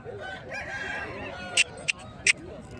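A rooster crows somewhere in the background of a rooster market under steady murmuring voices and rumble, followed by a few sharp, brief clicks.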